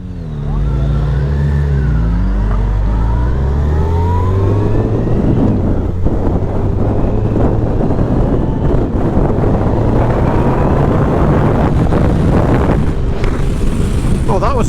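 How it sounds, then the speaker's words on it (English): A Yamaha FJR 1300 motorcycle accelerates hard with the rider's helmet visor open: the engine note climbs steadily through the gears, then gives way to a loud, continuous roar of wind buffeting close by for many seconds. "Oh, that was a mistake, accelerating hard with your visor open."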